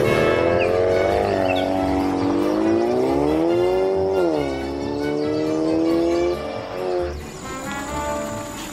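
A car engine in a video game revs and drones loudly, its pitch rising and falling as it drives, with a steady hum underneath and no talking.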